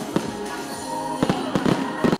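Fireworks burst over a continuous crowd roar at the opening of a Christmas Paskuhan celebration, with sharp bangs clustering near the start, middle and end of a dense, noisy wash.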